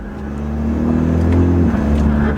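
A BMW F30 engine drones and builds in revs under fast paddle-shift downshifts in sport mode after a Bootmod3 transmission flash. The steady, loud engine note fills the cabin, with no talking.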